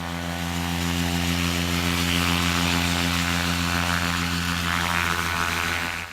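Paramotor engine roaring at full power through a takeoff run, a loud, steady droning buzz with a rich harmonic tone that holds constant and close throughout, with no voices.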